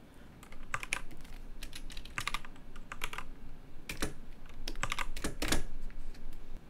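Rapid clusters of computer keyboard keystrokes rattle close by in bursts, with a few sharper isolated key hits among the quick typing runs, and no voices.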